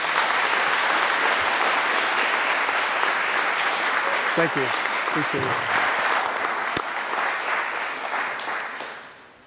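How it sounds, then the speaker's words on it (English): Crowd applause at a Veterans Day ceremony fills the room steadily, with someone briefly speaking over it near the middle before the clapping fades out at the end. "would you please give a round of applause"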